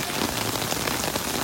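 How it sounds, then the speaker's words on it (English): Heavy rain falling on a street in Great Britain, a dense, constant hiss and patter of drops on hard surfaces, close and steady with no voices. "Rain has picked up."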